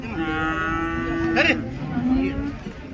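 A cow lets out a long, drawn-out moo close by at a cattle market, followed by a shorter second low call over steady background noise.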